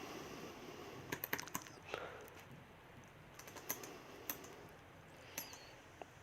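A search query typed on a computer keyboard, with soft, close, irregular keystrokes in small clusters over a quiet background and no talking.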